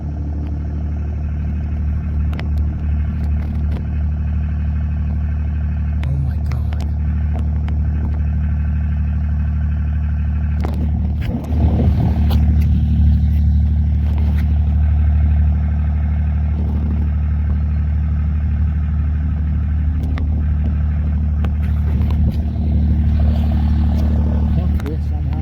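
A car's engine and tyre rumble as heard from inside the cabin on a late-night drive through the Oregon mountains, a steady loud drone that swells slightly partway through, with faint clatters and a voice speaking over it.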